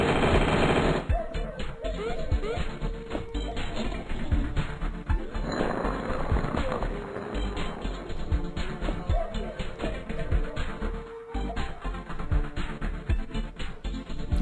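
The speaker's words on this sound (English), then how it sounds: "he's got a badass Gatling gun" A Gatling gun rattles off long rapid-fire bursts in the mobile action game Rogue Buddies 2, dense and continuous, with game effects and background music layered underneath.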